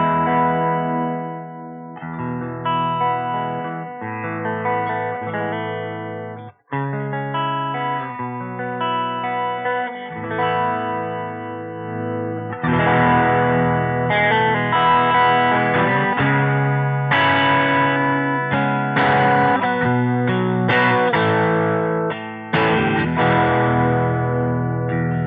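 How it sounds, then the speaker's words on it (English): Overdriven electric guitar played through a Movall Black Widow overdrive pedal, sustained chords and riffs with a thick, slightly gritty tone, loud and continuous throughout with no talking. "I'm getting the same tone, just with a little bit more of an overdriven sound to it."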